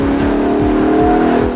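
A Maserati Ghibli V8 accelerating hard, loud and close, its engine note climbing and holding a strong growl with steady tire roar beneath, no talking.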